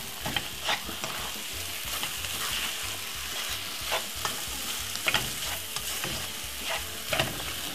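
Sardines sizzle in a frying pan over medium heat for a Jamaican breakfast, with repeated scraping and clinking as a utensil stirs them. The frying crackle runs steadily underneath, and no one talks.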